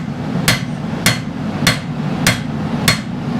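Five regular, bright hammer strikes land on a forged blade at roughly half-second intervals, close and distinct above a low steady hum in the smithy.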